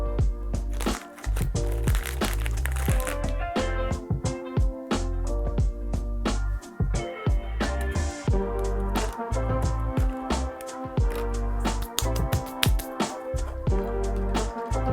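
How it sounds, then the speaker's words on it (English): A coffee or herb grinder pulverizing a single biscuit, giving a loud, continuous mechanical whir with dense rattling and crunching throughout, close and without any talk. "I'm just gonna go ahead and grind up 1 biscuit."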